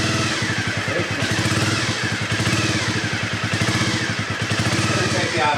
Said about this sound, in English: the engine sounds pretty quick actually